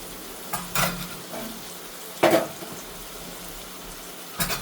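Tomatoes go into a frying eggplant mixture in a pan, giving a low continuous sizzle broken by three sharp stirring scrapes and clanks, close by.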